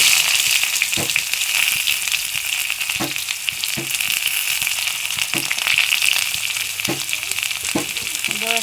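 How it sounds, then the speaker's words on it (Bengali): Onion and garlic frying in hot oil in a wok: a continuous bright sizzle, punctuated by a few soft knocks of stirring. "আর একটা রসুন আমি দিয়ে দিয়েছি। ভালো করে ভেজে নেব।"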